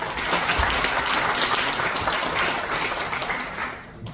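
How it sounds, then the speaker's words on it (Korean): An audience at a labour union education assembly gives a lecturer sustained applause, with dense, steady clapping that carries on for several seconds before tapering off at the end. "박수 부탁합니다."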